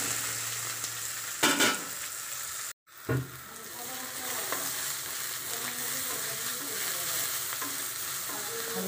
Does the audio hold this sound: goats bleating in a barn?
no